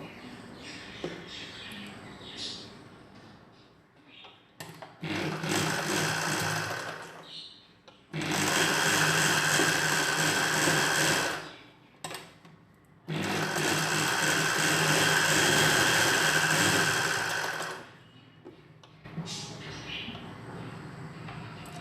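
A sewing machine stitching the shoulder seams of a nighty runs in several loud, steady bursts of a few seconds each, with quiet pauses and handling noises between them and someone speaking in the gaps.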